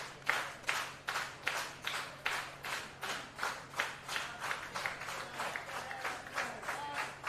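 A wrestling crowd in an indoor arena claps together in a steady, rhythmic beat, with the claps evenly spaced and fairly faint.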